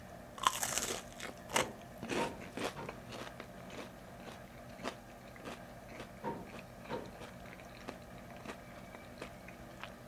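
McDonald's food crunched and chewed close to the microphone, with a burst of loud crunching at first, then steady irregular bites and chews, and no talking.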